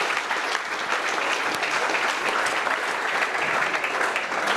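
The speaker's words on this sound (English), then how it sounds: "Round of applause, please." An audience at a Lean Startup Melbourne pitch night applauds steadily, a dense, even wash of clapping lasting several seconds with no break.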